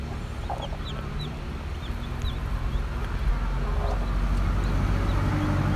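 Broody Gurk hen with newly hatched chicks, faint high chick peeps scattered over a steady, loud background rumble, low clucking barely present and no one speaking.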